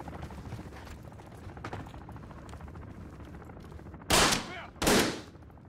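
Gunfire in the Call of Duty Modern Warfare 3 multiplayer video game: a steady rattle of distant automatic fire gives way to two loud, close bursts near the end.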